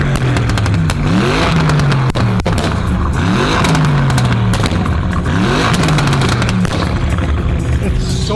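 A car engine revs hard and close, repeatedly climbing and dropping in pitch in rough bursts, with people talking over the roar.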